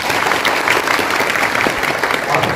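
An audience at a parish confirmation ceremony applauds to welcome the bishop, a loud, continuous wash of clapping from many hands with a faint crowd murmur beneath.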